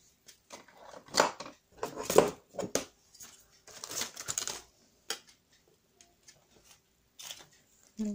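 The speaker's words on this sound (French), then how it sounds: "Donc on finit juste de couper le papier." Paper is cut for a handmade mini album in short, crisp bursts of snipping and slicing, close and fairly quiet, with pauses between strokes and a few faint sounds near the end.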